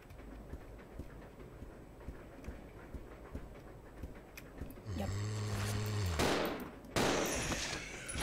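Gunfire in the survival horror game Resident Evil 0: a loud burst of shots with a rising mechanical whine and heavy impacts in the final few seconds, after a stretch of low ambient rumble and faint ticking.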